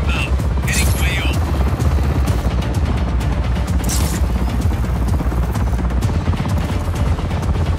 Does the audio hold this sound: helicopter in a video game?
yes